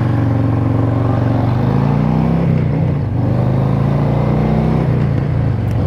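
Harley-Davidson Fat Boy motorcycle engine revving close up, a loud, deep, continuous rumble that swells and dips in pitch as the throttle rises and falls, with no talk over it.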